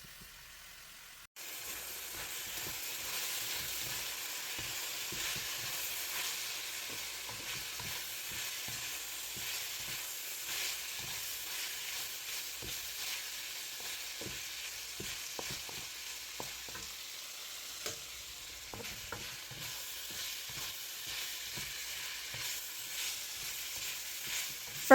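Marinated bulgogi beef with garlic, sesame oil, soy sauce and sugar sizzles in a pan, a steady close frying hiss with occasional pops and stirring clicks, no talking.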